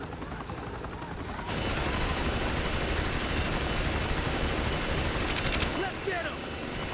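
Helicopter rotor drone and rapid gunfire bursts in the action game Saints Row: The Third, starting quieter, then a loud dense barrage of shots and chopping rotors, with a few brief whooshes near the end.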